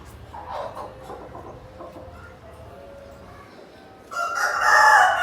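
A large Tiger breed rooster of over five kilograms on a farm gives one loud, close crow near the end, after a stretch of quieter clucking and murmuring background sounds.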